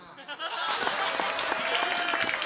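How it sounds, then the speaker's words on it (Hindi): Audience clapping at a Hindi comedy poetry recital, starting after a brief quiet moment and swelling into steady applause with some crowd noise underneath. "तालियां कम बजाते हैं आप लोग"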